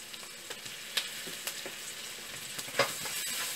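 Curry leaves fry in a pan with a pinch of asafoetida, giving a faint, steady sizzle with a few sharp crackles and pops scattered over it, close by and with no voices.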